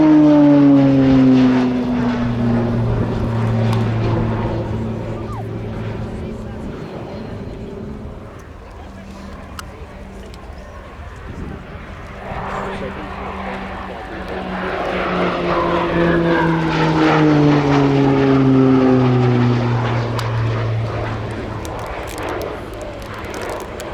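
A propeller display aircraft loops overhead at the Royal International Air Tattoo air show. A loud droning engine note rises and falls in pitch, fades in the middle as the plane pulls away, then swells again.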